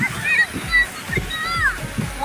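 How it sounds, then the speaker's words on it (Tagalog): Strong sea waves splash and slosh on the shore in irregular surges, fairly loud and close, with voices and high-pitched calls over it. "Lakas ng alon dun oh."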